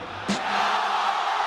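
Crowd cheering and roaring at a Spanish-language freestyle rap battle, a sudden shout bursting out before a sustained, dense wall of crowd noise that holds steady and loud.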